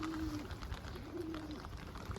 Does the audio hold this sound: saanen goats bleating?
no